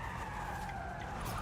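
Tires squeal in a continuous skid as a car drifts on street tires in the racing game Forza Horizon 5, a loud, sustained screech with a slowly shifting pitch over the engine.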